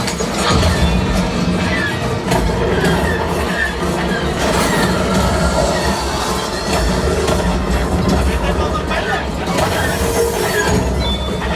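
A heavy train rumbles along the rails with rattling and metallic squeals, a loud continuous roar with some voices mixed in; a ride effect on the Millennium Falcon: Smugglers Run simulator ride at Disney World.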